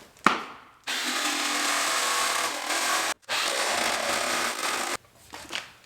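A handheld power tool cuts aluminum sheet for a fuel intake and bed remodel on a 1985 Jeep CJ7. It gives two long, loud, steady whining runs separated by a short pause, close up, with small knocks before and after.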